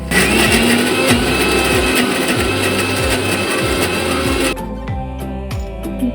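A mixer grinder runs steadily and loudly, blending gavar bhaji paste smooth with a little added water, then cuts off near the end, leaving background music.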